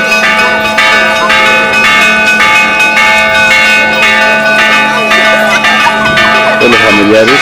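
A church bell rings steadily and loudly at the end of a mass, its sustained metallic tones repeating in a continuous peal with faint crowd noise underneath.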